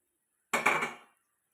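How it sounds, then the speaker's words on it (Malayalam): Mango pieces tipped into a cooking pot of thickened, boiling mustard-seasoned mixture make one short clattering, clinking burst of about half a second that fades quickly, with no one talking. "അതിന് ശേഷം ഈ മാങ്ങ ഇതിലേക്ക് ഇടുക."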